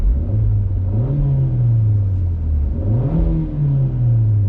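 An Alfa Romeo MiTo Cloverleaf engine turns over and runs steadily with a loud, close rumble, rising in two clear revs before easing back down, with no talk over it.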